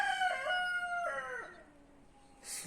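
A rooster crows nearby, a single drawn-out call that rises and trails off, followed by a short rustle.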